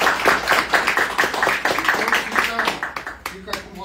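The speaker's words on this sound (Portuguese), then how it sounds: "Uma salva de palmas" Scattered audience applause at a press conference for Associação Atlética Iguaçu, with claps mixing under an ongoing speaking voice for a few seconds.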